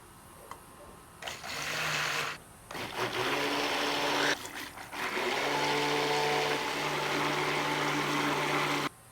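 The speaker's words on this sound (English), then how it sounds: "And now we shall stick blend." A stick blender mixing cold process soap batter in a container runs in steady motor bursts with brief pauses and restarts, fairly loud and close, with no talk over it.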